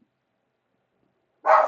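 A single loud dog bark bursts in near the end after a long silence, close and sharp, with nothing else around it.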